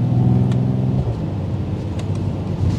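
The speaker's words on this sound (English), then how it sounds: "It's not a V8, but that six sounds amazing." Mercedes-AMG GT53 six-cylinder engine, 2024 model, pulling hard while driving: a loud, close harmonic growl that steps down in pitch mid-clip, with brief crackles above the steady rumble and no talk.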